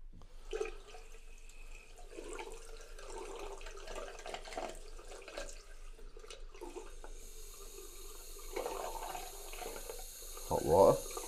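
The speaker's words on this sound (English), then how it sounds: "Tap's not too bad here, look at that." A hotel room sink tap runs in a steady, moderate stream, heard close by for several seconds and ending in a louder splash, with a voice talking faintly over part of it.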